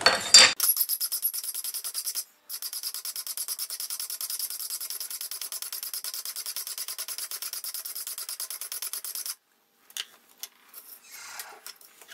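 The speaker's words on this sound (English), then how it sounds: "Let's get to filing." Metal file scraping a magnesium fire starter block, a fast steady run of rasping strokes for several seconds, then a short pause and a few scattered scrapes and taps, close and alone without talk.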